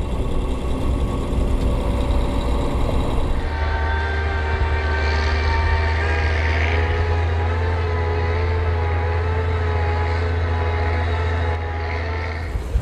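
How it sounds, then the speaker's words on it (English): A snow groomer climbs a ski piste on the Brauneck mountain near Lenggries in Bavaria. Its engine gives a loud, steady, close rumble with a strong low drone and tonal whine, and no one speaks. "I'm on the Bavarian ski slopes driving up the piste in a vehicle called a snow groomer"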